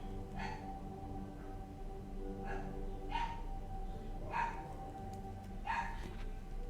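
A house dog barks four or five times at steady intervals, mid-distance and moderately loud, each bark short and yelping, against a quiet indoor background with no voices.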